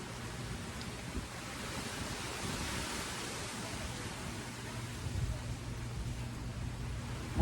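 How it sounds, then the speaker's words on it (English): Strong wind blowing outdoors during a storm: a steady, loud broadband rush of gusting air, close to the microphone, with slight swells and no clear talk. "let me put this so you guys could feel the wind."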